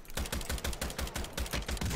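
Rapid bursts of gunfire from a Fortnite shooter match fill the moment, shot after shot cracking in a steady, dense rhythm, loud and close with no talk over it.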